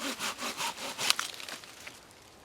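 A blade shaving thin curls from resin-saturated pine fatwood, several quick rasping scrapes in a row, close and dry, followed by a few lighter scratchy strokes that fade out.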